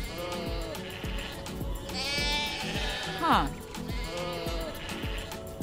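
Several sheep bleat with wavering cries, one loud bleat rising near the middle, over a steady farm background with a brief spoken interjection.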